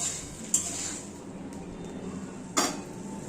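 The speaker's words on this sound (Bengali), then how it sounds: "এবার কাবলিটাকে ভালোভাবে ফ্রাই করবে, বেশিক্ষণ ফ্রাই করবে কিন্তু," Kabuli chickpeas fry in a pan with a steady, close sizzling hiss, broken by two sharp knocks of a utensil against the pan.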